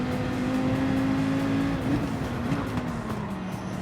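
Race cars in a Group 3 racing game around Daytona, including a Mercedes and a McLaren, hold a steady engine drone with a sustained whining tone that shifts slightly in pitch as they run close together.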